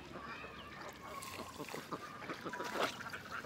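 Ducks quacking in short bursts around a feeding area, several calls overlapping at moderate distance over a steady outdoor background, with some faint voices mixed in.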